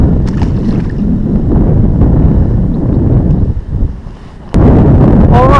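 Wind blowing across a New Jersey pond on a spring fishing outing, heard as loud, constant low buffeting rumble on the microphone, with a brief lull and a sharp knock near the end.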